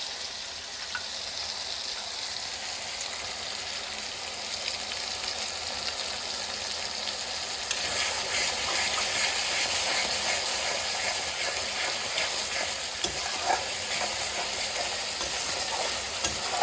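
Tomatoes fry in a pan for a green jackfruit curry, then dissolved spice paste goes in. A steady hiss grows louder and busier partway through, with faint scraping of stirring and no talking.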